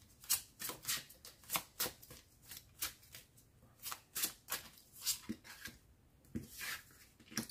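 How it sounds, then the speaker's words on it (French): Tarot cards being shuffled by hand ahead of a reading, a steady run of crisp riffling and flicking bursts, close and fairly quiet, with no voices. "je vais faire quelques tirages avec les tarots"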